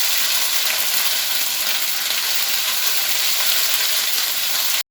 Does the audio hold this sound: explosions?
no